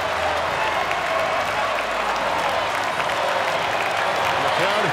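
At the CrossFit Games, a large arena crowd cheers an athlete with a continuous loud roar and applause that holds steady throughout.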